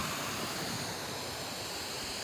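Creek water flowing down a slushy, partly frozen channel with ice shelves and mud, a steady broadband rush with no pauses, close and continuous throughout.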